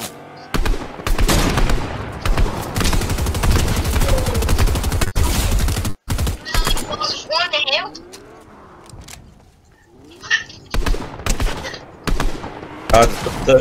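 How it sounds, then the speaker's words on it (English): Fortnite gunfire, rapid close bursts of shots crowding the first half, then scattered shots and game sounds, with a player talking throughout. "Oh, we're getting shot at."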